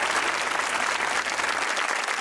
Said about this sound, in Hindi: तालियां होनी चाहिए सर के लिए